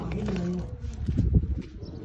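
Pigeons on a rooftop loft in hot weather give low, throaty coos close by, a soft rolling murmur mixed with a voice and scattered background noise.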